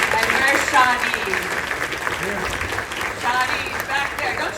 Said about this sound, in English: Let's give all the staff a big round of applause.